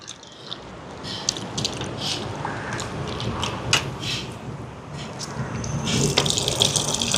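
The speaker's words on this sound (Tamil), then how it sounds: "இப்போ இதோட புளியை சேர்ப்பேன்" Tamarind water pours steadily into a cooking pot for a curry in a continuous watery splash, growing slightly louder toward the end, with light clinks in the background.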